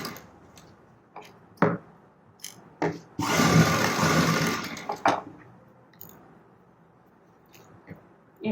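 A sewing machine stitching the back side of a blouse, one continuous whirring run of roughly two seconds, with scattered clicks and taps from handling the fabric before and after.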